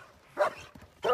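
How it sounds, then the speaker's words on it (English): Two close, loud barks from dogs arrive about half a second apart, with quieter shuffling between them. "Here come my dogs."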